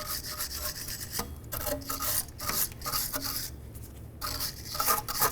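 A brush scrubs rust and brake dust off the bearing hub of a 2011-2016 Hyundai Elantra rear brake, a close, steady rasping in repeated back-and-forth strokes with brief gaps between passes.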